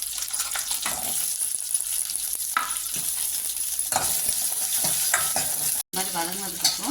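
Small shallots frying in hot oil with cumin seeds, a loud, constant sizzle broken by scraping stirs of a spatula in the pan, close and with no voices.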